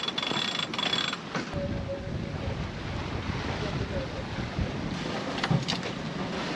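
A sailboat beats upwind between islands in 16 knots of wind on flat water, heard as steady wind rush over the microphone with water noise and a few faint knocks throughout.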